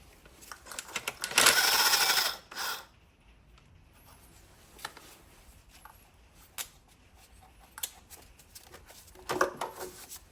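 A stuck rocker cover bolt on a Mini Cooper R56 or Countryman R60 engine being worked with an 8mm socket and ratchet: a loud burst of rapid clicking, then scattered metallic ticks and clicks, close by.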